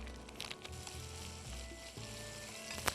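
Onion and chili sizzle and crackle steadily as they fry in a pan, a continuous soft hiss throughout.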